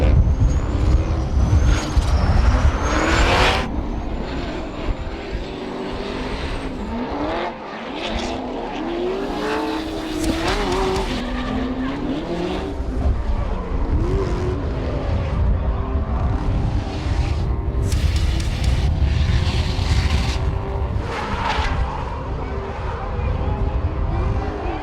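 In a drifting finals battle, an Achilles Radial Nissan 370Z and a Toyota 86 roar and scream close by, with engine notes rising and falling, squealing tyres and hissing bursts over a steady loud din.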